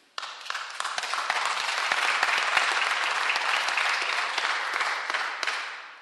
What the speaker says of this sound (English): Somehow I think the applause wasn't for me.